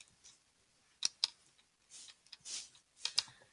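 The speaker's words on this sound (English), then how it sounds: "Now I'm going to type in my calculator." Keys tapped on a handheld calculator, a few sparse light clicks with gaps between, quiet and close, no talking.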